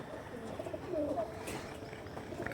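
Pigeons in a loft of a breeder's stock coo softly in a few short low calls, close by, over steady background noise.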